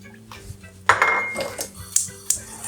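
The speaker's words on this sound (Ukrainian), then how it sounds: "і помішуючи, доводимо до кипіння" A spoon scrapes and clinks against a small saucepan as sugar is stirred into fruit juice, with several sharp metallic taps standing out over quiet kitchen background.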